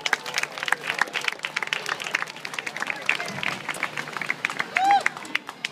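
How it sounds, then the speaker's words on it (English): Outdoor crowd at a charity autism awareness walk applauds a top fundraising team, a scattered, moderately loud patter of clapping with some cheering and crowd murmur running steadily throughout. "So please give our top team village a round of applause."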